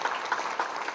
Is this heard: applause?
yes